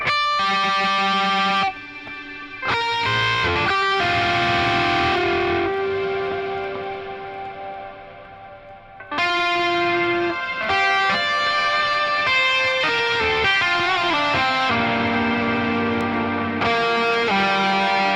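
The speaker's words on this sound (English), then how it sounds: "we're basically introducing this pitch effect just into the reverb side of things" Sustained electric guitar chords through an Axe-Fx III swell with heavy effects, a pitch effect feeding only the reverb, giving a washy tail with shifted pitch shimmering beneath, chords changing every few seconds.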